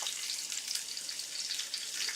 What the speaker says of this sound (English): Don't you just love that sizzling sound?